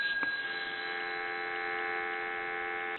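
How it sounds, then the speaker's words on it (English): Steady telephone dial tone on a Northern Electric Galion rotary desk telephone, a continuous even hum at moderate level with a faint click near the start, alone without talk. "I want to give you some dial tone"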